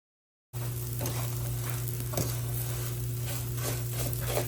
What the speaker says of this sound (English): we're going to let our butter melt and we're going to keep mixing it until it